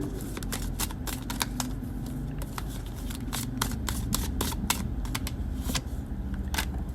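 A deck of tarot cards is shuffled up close, giving a continuous run of rapid papery clicks and flutters that lasts the whole stretch.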